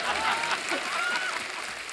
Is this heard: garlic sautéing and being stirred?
no